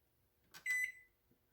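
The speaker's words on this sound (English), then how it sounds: "set my kitchen timer." Kitchen timer being set while baking a fresh strawberry pie, one short bright electronic beep preceded by a faint button click, close and alone in a quiet kitchen.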